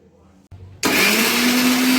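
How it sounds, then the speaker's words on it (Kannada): Mixer grinder whirs at full speed grinding coconut and onion for an egg masala curry, switching on abruptly after a short quiet stretch with faint thumps, then a loud, steady, high-pitched motor roar to the end. "ಚೆನ್ನಾಗಿ ಸಣ್ಣ ಆದಮೇಲೆ ಮಾತ್ರ ಆನಿಯನ್ ಅದರಲ್ಲಿ ಮಿಕ್ಸ್ ಮಾಡಿ ಮಿಕ್ಸಿ ಮಾಡಿ"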